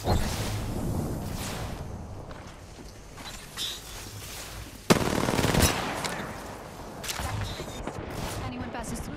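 Automatic gunfire in the game Apex Legends, dense sustained bursts that carry on for most of the passage, with a sharp loud shot in the middle and brief lulls between volleys.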